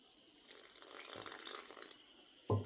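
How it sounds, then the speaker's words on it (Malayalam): A soft, brief trickle of water is poured into a bowl of gram flour mixed with salt and chilli powder, quiet and close, ending with a sharp knock against the bowl. "ആവശ്യത്തിനുള്ള വെള്ളം ഒഴിച്ചു കൊടുക്കാം"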